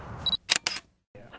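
A camera shutter fires a couple of quick mechanical clicks during a police dog training session, sharp and close, with brief ambient noise around it.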